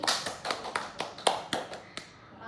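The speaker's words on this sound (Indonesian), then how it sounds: "tepuk tangan untuk Andi Aini" A small group of students in a classroom claps for a classmate, a handful of sharp, distinct claps that thin out and stop within a few seconds.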